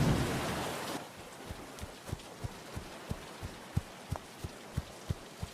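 Steady rain hiss with soft, regular thumps or drips pattering through it, a heavier wash of rain at the very start.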